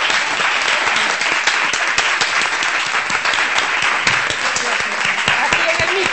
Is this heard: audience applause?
yes